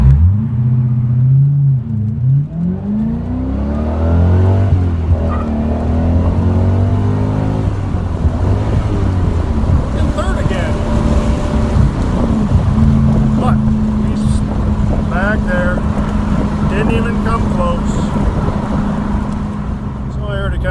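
A Corvette ZR1 pulls away from an intersection beside another vehicle, its engine a loud, close, sustained rumble that climbs steadily in pitch through the gears, with heavy wind-like noise throughout.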